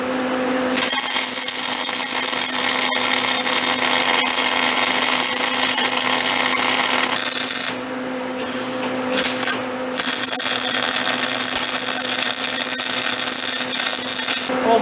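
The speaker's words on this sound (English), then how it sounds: "see if we can't weld this little fella up" Welding on a homemade steel trailer frame, with a loud, steady crackling hiss running almost the whole time and one brief dip midway; no talking.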